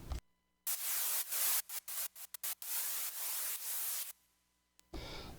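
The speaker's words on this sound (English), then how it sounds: "So it's just simple white noise." Simple white noise synth layer in a remix breakdown, a bright, full hiss gated into choppy bursts and sustained stretches, stopping abruptly near the end.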